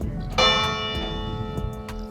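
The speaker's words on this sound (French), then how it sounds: "Et ah là on a la cloche, vous voyez." A church bell strikes near a church, one loud ringing toll that hangs and slowly fades, with a few faint later strikes, heard close outdoors with light background noise.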